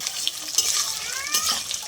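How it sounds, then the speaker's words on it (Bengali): Moong dal frying in oil with whole red chilli, cinnamon, cardamom, five-spice and bay leaves, a steady close sizzle broken by scraping stirs and light clinks of a utensil against the pan. "মুগ ডালটা আমি একটু তেলে ভেজে নেব।"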